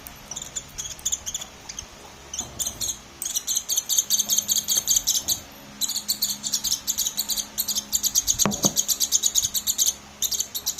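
A pet bird chirps in quick, repeated bursts of high, bright calls while being fed, close by and fairly loud, with short pauses and a soft clack or two of feeding in between.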